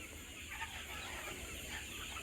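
Chickens on a poultry farm in Basail, Tangail, cluck faintly and intermittently at a distance over a steady background hum, with no talking.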